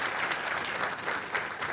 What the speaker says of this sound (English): Let's clap for those schools as well.